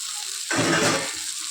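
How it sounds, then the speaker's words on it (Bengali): Chopped tomatoes hit a pan of fried onions for a fish curry, bursting into a loud, close sizzle after a quiet hiss, then easing back down within about a second. "পেঁয়াজটা ভাজা হয়ে গেছে, এবার আমি টমেটোগুলো কাটা ছিল দিয়ে দিলাম।"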